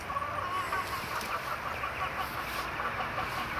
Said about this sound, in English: I got chickens in my yard.